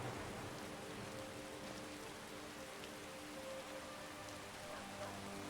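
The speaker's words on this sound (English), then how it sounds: "The rain is making me sleepy." Rain falls in a video game, a steady soft hiss of many drops with faint thunder-like rumble beneath, evenly sustained and quiet throughout with no voices.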